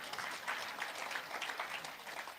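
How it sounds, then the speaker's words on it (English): Applause from a town hall forum audience in Kingston and St Andrew, a steady dense patter of clapping throughout, moderately loud with no speech over it. "you can applaud if you want"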